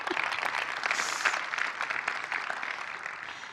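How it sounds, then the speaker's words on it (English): A conference audience claps for two presenters, dense sustained applause from a crowd filling the room evenly from start to finish with no break. "Big round of applause for Mark and Logan"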